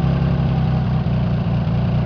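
A Honda CBX 1000 motorcycle engine idles close by while the throttle is adjusted. It gives a steady, loud, low rumble with regular pulsing beats and slight dips in the tone, and nobody talks.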